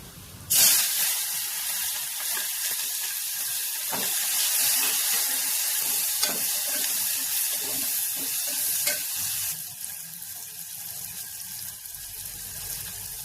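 Onions tossed into a hot pan of oil with turmeric for an Andhra-style dried fish, brinjal and tomato curry, hissing in a loud, steady sizzle that begins abruptly and continues throughout, no voices.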